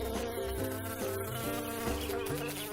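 An animated cartoon bee buzzes steadily and closely in an insect-like drone, with soft pulsing tones underneath and no voices.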